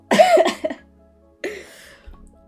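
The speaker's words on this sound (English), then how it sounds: "Excuse me, I got a cough." Two separate coughs, the first a harsh double burst, the second shorter after a pause, close to the microphone with no talking.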